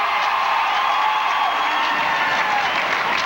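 Crowd at a 1989 college ice hockey game between Boston College and Maine reacts during a third-period penalty, a loud, sustained roar of applause and cheering with occasional whoops filling the arena.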